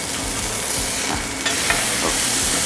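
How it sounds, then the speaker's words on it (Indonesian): A beef burger patty of brisket, rib blade and topside, flipped onto a very hot grill, sizzles loudly and continuously up close with no talk. "Ini dagingnya udah ready, aku mau flip"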